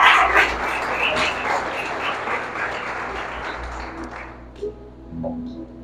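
Church congregation applauding during a lively worship service, a dense sustained clatter of many hands filling the room for several seconds before thinning out at the end.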